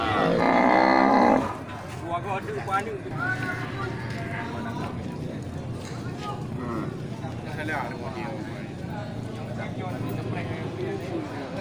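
Simmental breeding cattle at a busy livestock market in Geurugok, with a loud low moo-like bellow at the start, then steady crowd chatter and mixed animal sounds throughout.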